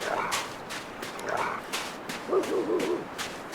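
A wolf in The Long Dark, chasing the player across Pleasant Valley, makes close vocal sounds in short bursts: low rumbles give way to higher, wavering whining cries.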